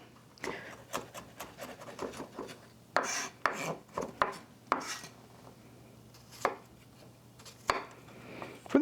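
Knife mincing garlic on a cutting board: rapid rhythmic chops in bursts, close and crisp, with a few louder knocks and scraping sounds between runs.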